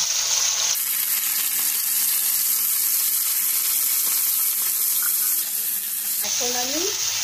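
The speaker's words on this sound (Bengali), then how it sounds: "তেল গরম হয়ে গেছে, এখন আমি তেলের উপরে মাংসগুলো দিয়ে দেব।" Chicken pieces fry in hot oil in a wok with a loud, steady hiss and crackle that swells sharply as the meat goes in. A brief faint tonal sound appears near the end.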